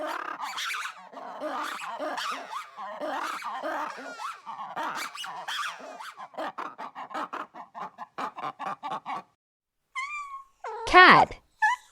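A cat meows close to the microphone in a quick run of short, clear calls and chirping cries, then gives one louder, drawn-out meow near the end.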